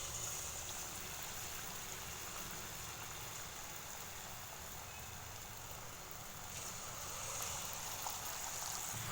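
Bonda batter dropped into well-heated oil for tea shop snacks, giving a steady, close, continuous hiss and bubbling sizzle that runs unbroken throughout, with no talking.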